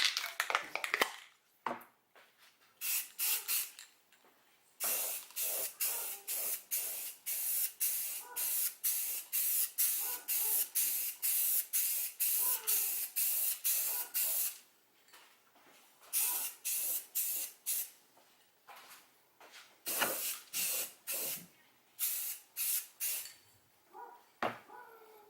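Red aerosol spray paint applied to a custom car battery cover for a Ford Focus ST, loud close hissing bursts in rapid repeated short pulses with brief gaps and longer pauses between passes.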